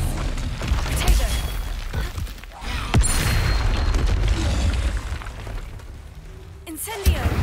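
Confringo blast spell cast in Hogwarts Legacy, loud booming explosion bursts layered over dense game noise and music, with a sharp impact near the end.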